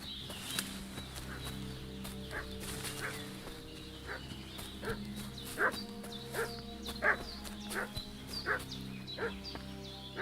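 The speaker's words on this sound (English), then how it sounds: "What's that dog making such a fuss about?" In the medieval role-playing game Kingdom Come: Deliverance 2, a dog barks in repeated short, evenly spaced yaps at a middle distance over a steady outdoor ambience, with faint fowl-like calls mixed in.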